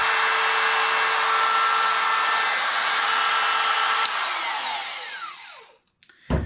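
A Greenworks battery-powered speed saw spins at 27,000 RPM with a steady high whine. It holds for about four seconds, then winds down as it powers off, and a short clack follows.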